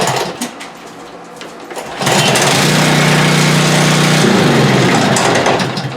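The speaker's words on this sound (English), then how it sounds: "And it cranks right up." A 2009 machine's 173 cc Kohler small engine, started with the flip of a switch, is quiet at first, then roars to life at about two seconds into a loud, steady running drone.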